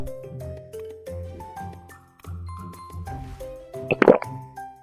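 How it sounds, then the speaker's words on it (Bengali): Cartoon sound effect of medicine drops poured from a bottle into a mouth, a bright plop rising out of a busy musical backing near the end. "3 নম্বর ড্রয়ে 4 নম্বর বোতল থেকে ওনাকে 3 ফোঁটা ঢেলে দাও"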